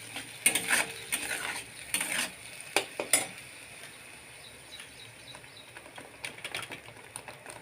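Ground spice paste sautéing in oil in a pan for raw banana curry, with a soft continuous sizzle under repeated scraping and stirring clinks of a spoon against the pan, busier at first and then quieter.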